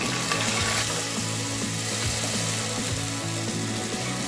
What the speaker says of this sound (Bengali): চালটাকে 2 মিনিট ভাজিয়ে নিব।